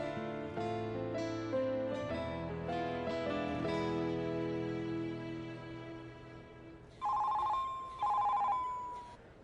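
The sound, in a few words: phone ringing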